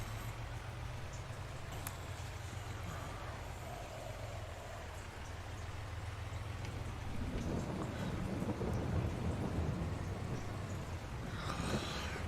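Rain falls steadily in the Farming Simulator 22 video game, a soft continuous hiss with low rumbling thunder that swells louder partway through, heard alone without talk.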